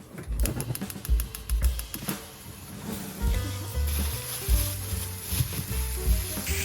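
Pork belly sizzles as it grills in a pan, a steady crackling hiss with rapid popping spatters and occasional clanks of a utensil, close and continuous, with no talk.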